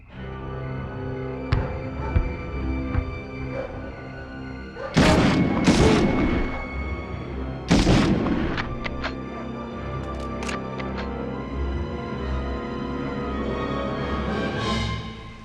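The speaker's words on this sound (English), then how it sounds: "Gunshots." Heavy gunshots and booming blasts from Medal of Honor, a few loud bursts around a continuous background score, with sharp sporadic cracks later.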